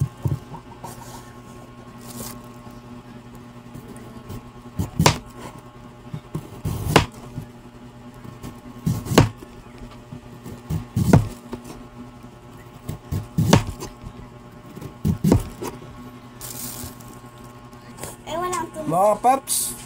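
Knife chopping white onion on a board while cooking pork steak, with scattered sharp thuds at irregular intervals under steady background noise and people talking.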